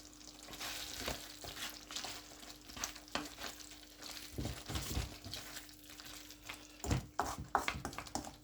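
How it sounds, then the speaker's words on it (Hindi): A spoon scrapes and stirs through white lamb kadahi in a pot as fresh coriander is mixed in, with uneven clattering strokes over a soft sizzle and a faint steady hum, no talk. "इस तरीके से सब्ज़ धनिया इसमें ऐड करके मैं अच्छे तरीके से इसको मिक्स भी करूँगा"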